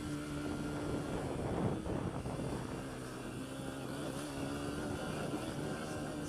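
A Honda CRF150F dirt bike being ridden drones with a steady, moderately distant engine note that rises briefly, continuous and without talk.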